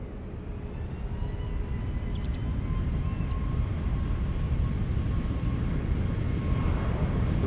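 A jet airliner roars at a distance at SFO airport, a steady low rumble that swells gradually across the stretch, with no talking.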